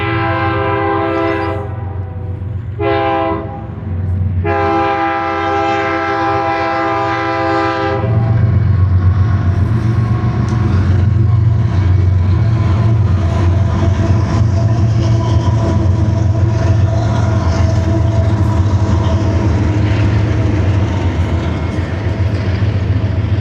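An intermodal freight train sounds its horn in several loud blasts, then rumbles past up close with steady, heavy rolling and clatter of wheels on the rails.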